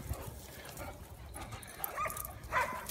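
Dogs play together on a walk outdoors. Faint, short yips and whimpers rise late in the moment over a low, breezy background.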